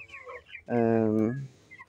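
Twenty-two-day-old farm chickens: one clear, drawn-out call sounds close by, framed by softer chirps and clucks before and after.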